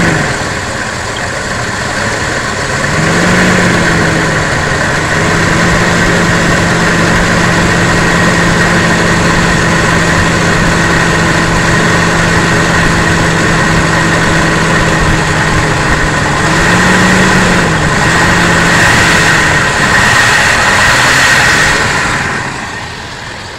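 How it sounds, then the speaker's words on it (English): A Jeep Cherokee Trackhawk V8 idles steadily and close by with a deep, even rumble, the pitch rising briefly twice as if lightly revved before settling back. "Some good running engines."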